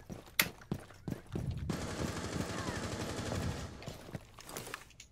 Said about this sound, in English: I missed every single one of my shots